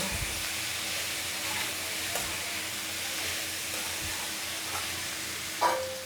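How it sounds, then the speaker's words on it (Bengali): Green jackfruit pieces frying in a pan with salt and turmeric give a steady, fairly quiet sizzle and hiss, with a few soft stirring scrapes and a brief louder clink near the end. "একটু লবণ আর হলুদ দিয়ে এটাকে ভাজবো।"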